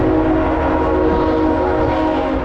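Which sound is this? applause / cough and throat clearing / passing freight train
passing freight train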